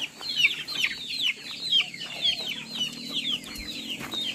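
Rhode Island Red chickens cluck nearby, a busy overlapping stream of short calls over quiet farmyard background.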